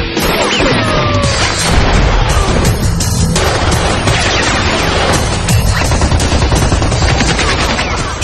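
Dense, continuous gunfire and crashing impacts from the 2007 action movie Shoot 'em Up, loud bursts packed together with no breaks, a few brief tonal sounds mixed in.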